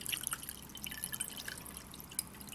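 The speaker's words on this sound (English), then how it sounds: "You take your bowl and you're gonna fill it with water" Water is poured into a bowl for soaking air plants, giving a steady splashing trickle with scattered drips, close and moderately quiet with no voices.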